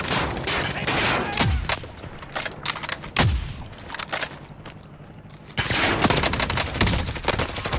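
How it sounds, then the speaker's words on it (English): Rapid bursts of gunfire and shots in Call of Duty Warzone, several sharp cracks among sustained firing, with a louder burst resuming near the end. "Yep, getting shot at."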